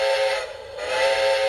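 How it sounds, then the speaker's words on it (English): A loud, steady steam whistle from a Walthers or Broadway Limited or Lionel model locomotive, US 4520, blows continuously, shrill and close, with a slight dip in the middle before sustaining again. "I have the whistle."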